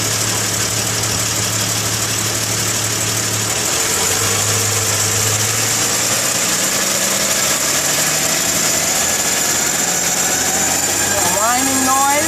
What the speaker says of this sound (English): I'm trying to figure out what the whining sound and if I can attribute it to the actual transmission or not.